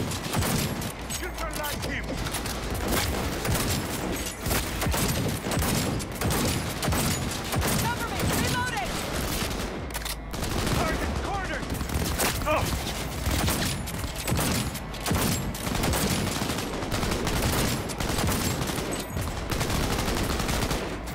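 Dense, continuous gunfire in Cyberpunk 2077, rapid automatic bursts and overlapping shots in a sustained firefight with no letup.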